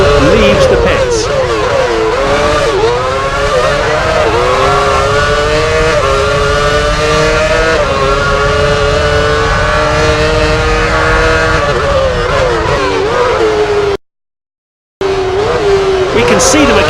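Formula 1 car pulling out of the pits in F1 Championship Edition on PS3, a loud continuous high-pitched engine whine rising and shifting through gears, close and sustained, with a brief dropout near the end.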